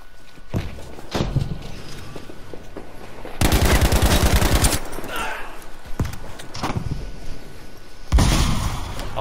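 Gunfire and explosions in the video game Battlefield V Firestorm: rapid machine-gun bursts, scattered single shots and a booming blast, loud and close, with footsteps and a player talking over the action.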